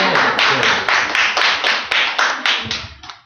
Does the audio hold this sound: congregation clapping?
yes